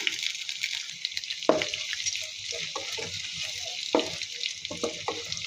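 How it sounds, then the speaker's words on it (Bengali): Ginger-garlic paste frying in oil for a homestyle Bengali beef tripe curry, a steady bright sizzle running throughout with a few sharper spatula scrapes and clacks against the pan, close and fairly loud, no talking. "আদা রসুনটা ভালো করে ভেজে নিব।"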